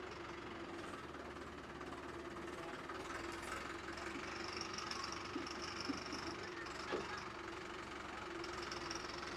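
A tractor engine runs steadily nearby as the tractor is driven onto a boat during a flood rescue, a low continuous rumble with some knocking and faint background voices.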